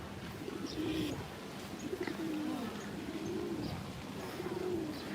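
Several pigeons coo in low, repeated throaty phrases along a walkway where feed is scattered, steady and fairly close, with faint chirps in the background.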